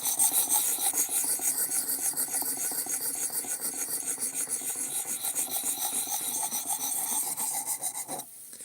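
A Work Sharp sharpener grinds a blade in steady, rhythmic rasping strokes, close and fairly loud, with a bright abrasive hiss that repeats many times before stopping abruptly near the end.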